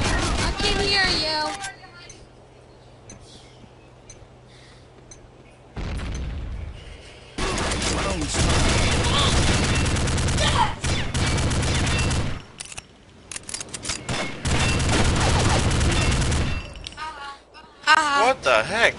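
Gunfire in the online shooter Combat Arms: loud bursts of automatic fire and rapid shots come in long stretches between quieter gaps, with excited voices of family players talking over the game.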